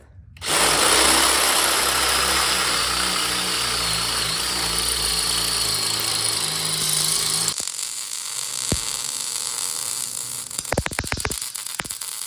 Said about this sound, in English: I'm drilling holes in these knuckles, kind of at an angle